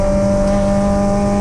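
Race cars, including an MGB, accelerating past at a circuit, with a loud, steady, sustained engine drone and no talk.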